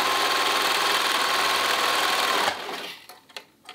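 A serger runs fast and loud while sewing a fabric neckband seam, giving a continuous mechanical whir for about two and a half seconds. It then stops, followed by a few faint handling clicks.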